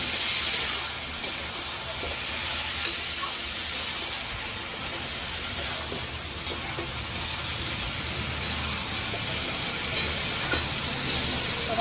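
Chicken curry with chicken curry masala, shahi garam masala and a little water is stir-fried in a pan, giving a continuous loud sizzle with occasional scraping stirs and faint clinks, with no talking.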